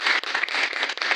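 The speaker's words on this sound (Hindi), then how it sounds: "एक बार जबरदस्त ताली बजाइए" An audience claps hard and steadily for a little over a second, a dense burst of applause at close range with no voices over it.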